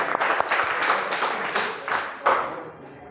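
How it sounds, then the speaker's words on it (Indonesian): A small group claps for the second-place team at an award moment, with uneven bursts of hand claps that swell and fade, then trail off at the end. "Tepuk tangan."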